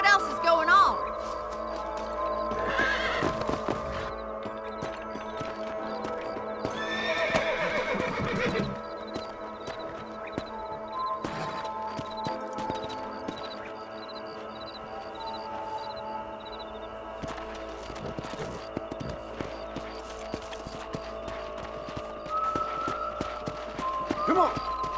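In the Red Dead Redemption video game, horses whinny and neigh loudly while hooves clip-clop along, with game music and character voices mixed in over the scene.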